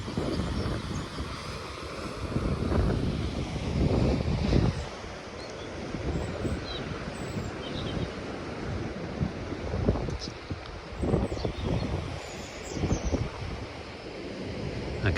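Gusty wind buffets the microphone on a clifftop at Ventnor, rising and falling in rough surges with a low roar and no talking.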